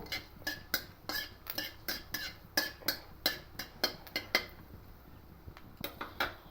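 A metal spoon or spatula repeatedly scraping and knocking a pan while tempering spices, a steady series of sharp clanks at an irregular pace, close and alone.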